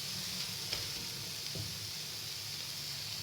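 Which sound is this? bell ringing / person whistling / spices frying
spices frying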